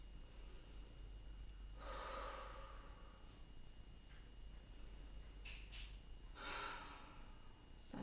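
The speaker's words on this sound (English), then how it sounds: "try to take those big breaths out" A few big, deliberate breaths pushed out close up, with two or three long breathy exhales rushing out over a quiet background and no talking.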